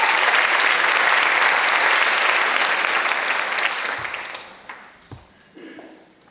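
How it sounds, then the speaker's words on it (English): Audience applause at a high school ceremony, a loud dense wash of clapping from a large crowd that gradually fades out, leaving a few scattered claps and light clatter at the end. "Let's give them one more round of applause."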